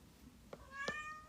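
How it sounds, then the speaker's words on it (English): Pet cat meowing indoors, two short meows with the second louder and more tonal, against a quiet room background. "And there goes my cat. Here comes my cat."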